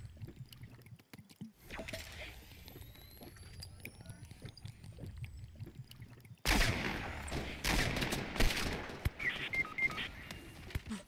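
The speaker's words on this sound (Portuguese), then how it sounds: "Tiro de todo lado, caralho." Quiet, scattered distant Fortnite Mobile shots give way halfway through to a loud, dense barrage of rapid gunfire continuing to the end.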